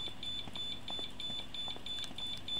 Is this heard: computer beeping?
yes